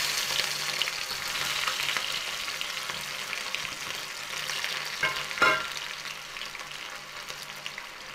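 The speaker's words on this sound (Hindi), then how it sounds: "इसके बाद हमने प्याज डालते हैं।" Chopped onions frying with cumin seeds in hot oil in a pan, a steady, dense sizzle running throughout with a brief stirring clatter midway, close and fairly loud.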